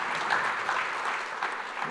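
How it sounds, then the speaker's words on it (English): Audience applause at an advertising industry summit, a steady, moderately loud wash of many hands clapping with voices faintly mixed in. "I think we need to hear a louder round of applause,"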